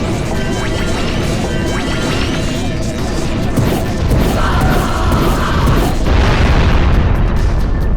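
A silo being blown apart in Jak and Daxter, a loud continuous roar of explosions and crashing debris that rumbles on without pause.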